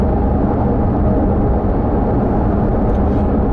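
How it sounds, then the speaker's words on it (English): Steady, broad rumble of road and tyre noise inside a new Porsche GT3 on the move, loud and continuous with no talk. "Little bit of road noise, as you'd expect in a GT product"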